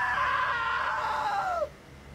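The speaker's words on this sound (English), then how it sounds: "Now that was a great scream." A woman's scream in the video game What Remains of Edith Finch, one loud sustained shriek lasting about a second and a half that bends downward and cuts off abruptly, with only faint background hum afterward.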